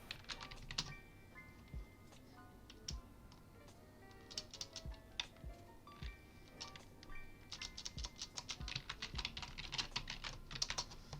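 Rapid clattering keystrokes on a computer keyboard come in uneven bursts, close and fairly quiet, growing busier and denser toward the end.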